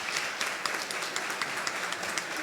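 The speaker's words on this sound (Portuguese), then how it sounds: "Vamos aplaudir ao Senhor?" A church congregation applauds at a birthday service, a soft, steady patter of many hands clapping from across the room, quiet and continuous with no voices over it.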